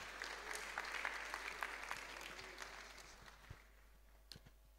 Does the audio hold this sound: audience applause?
yes